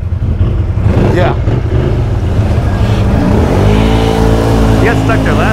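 A Can-Am 650 XMR ATV on mud tires revs loud and close, its engine droning steadily then climbing in pitch, with people talking over the roar.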